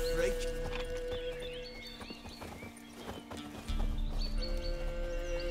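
Roach the horse gallops in The Witcher 3, steady clip-clopping hooves beating a quick rhythm under a low ambient game hum, with a voice speaking over the running.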